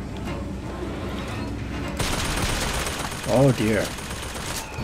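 Gunfire in the video game Bioshock Infinite: a dense, continuous rattle of shots that gets louder partway through, with someone speaking briefly over it.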